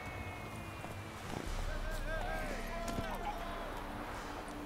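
A horse trots in The Witcher 3, its hooves giving a steady clip-clop rhythm beneath a person talking, with low wind-like ambience behind it, moderately close and fairly quiet.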